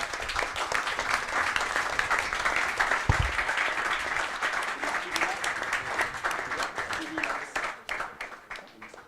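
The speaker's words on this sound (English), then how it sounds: "A big round of applause." Sustained audience applause at a livestreamed stage event at the Nebular Summit in Paris: a dense, steady wash of clapping that continues for several seconds, with faint voices mixed in, then thins out near the end.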